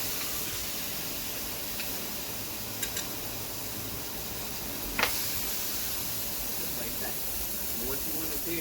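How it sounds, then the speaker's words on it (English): Meat sears on an outdoor griddle with a steady broad sizzle and hiss, a few sharp pops and crackles standing out, while someone talks over it. "let them just fry and sear for a little while on each side"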